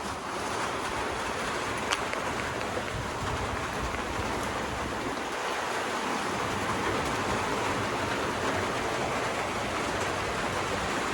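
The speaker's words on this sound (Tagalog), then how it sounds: "It's raining outside." Rain falls steadily outside, a dense even hiss of drops with no break, moderately loud and alone without voices.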